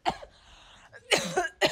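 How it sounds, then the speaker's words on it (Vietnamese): A girl coughs in a Vietnamese sitcom scene after complaining of the cold: two or three sharp, throaty coughs, with a brief gasp between them, close and fairly loud. "Ho luôn rồi."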